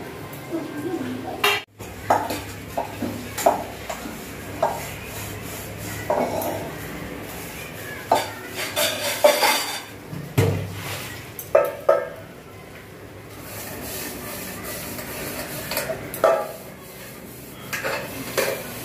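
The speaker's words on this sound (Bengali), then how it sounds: "এই দেখো বাসন মাজবো" Dishes, pots and cutlery being washed in a home kitchen, with scattered clinks and scrapes of metal and glassware under nearby talking.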